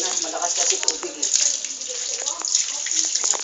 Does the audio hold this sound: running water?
yes